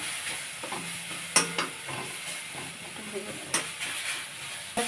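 Prawn masala sizzles in a pan with repeated scraping and stirring clatters, a few sharp utensil hits standing out over the steady hiss.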